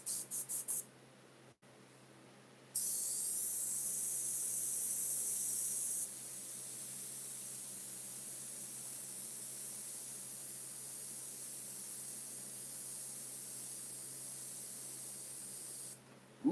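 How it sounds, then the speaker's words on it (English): An airbrush sprays paint over a watercolor painting with a steady, close hiss. Short puffs come first, then a long continuous spray that softens partway through and runs to the end. "airbrush is so good for fog."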